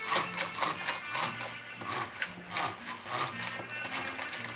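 Hand crank mixer churning cream cheese pumpkin bread batter, a quiet rhythmic whirring and clicking of gears repeating steadily at close range with no talk.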